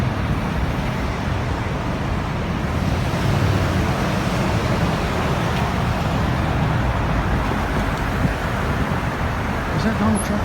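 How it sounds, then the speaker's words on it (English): A motorcade of cars carrying Donald Trump rushes past, making a continuous loud broadband roar of road and wind noise, with people talking over it. "And here comes all these cars, boom, boom."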